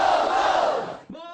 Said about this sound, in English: Tzu Chi volunteer Liu Jiyu leads Tacloban residents in a cheer